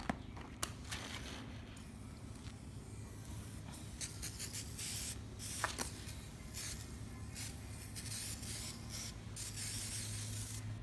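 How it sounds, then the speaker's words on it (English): CRC rust inhibitor sprayed onto a rusty chain, heard as a few short aerosol hisses over a steady low background hum. "what we'll do now is spray some rust inhibitor, which is your usual W40 CRC."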